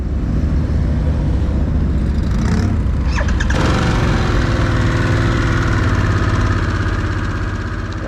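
Harley-Davidson Sportster S (2023) engine running: a dense, loud low rumble that holds steady throughout, with a brief rattling flutter midway, recorded close with constant wind-like roar.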